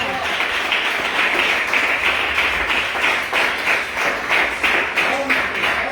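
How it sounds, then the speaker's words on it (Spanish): Congregation applauding during a worship service, brisk rhythmic clapping from many people filling the room, with voices mixed in beneath it. "Denle un aplauso al Señor."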